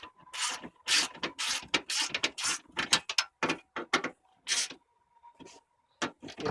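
A hand ratchet clicks in quick rapid bursts tightening bolts on a Dodge Neon during a radiator change, crisp close pawl ratcheting with short pauses between strokes.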